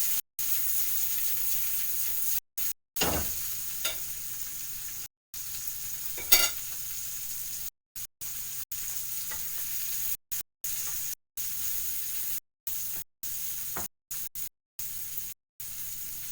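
Meat browns in a pan for a perpetual stew, a soft, steady sizzle with a hissing, steamy edge, close but fairly quiet, broken by a few brief gaps and one sharp clatter.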